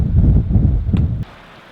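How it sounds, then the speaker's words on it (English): Thunderstorm at an overnight hammock camp, with loud low rumbling and wind-blown rain that cuts off abruptly, leaving a quieter hiss of rain. "There's lightning and thunder all around me."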